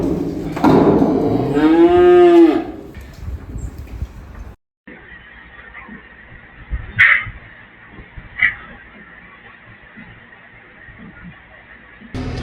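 Heifers in a field give one long, loud, close moo near the start, then a quieter stretch with a few faint distant calls and rustles outdoors.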